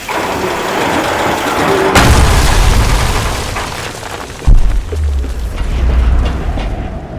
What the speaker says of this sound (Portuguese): Um canhão direto.